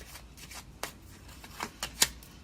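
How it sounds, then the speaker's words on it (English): Tarot cards shuffled by hand in a few quick riffling bursts and soft slaps, light and close, the last snap sharpest, with no talking. "I gotta shuffle this a little bit more."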